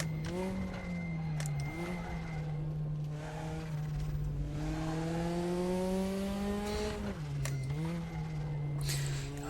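Race car engine lapping in the Raceroom sim with a Porsche, revving up and down through gear changes, a loud continuous whine rising and dropping several times.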